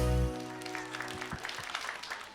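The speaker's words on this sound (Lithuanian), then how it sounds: "Audringi plojimai." Applause on a children's television show breaks out right after a low sustained tone, a moderate, even clapping that carries on alone for a couple of seconds.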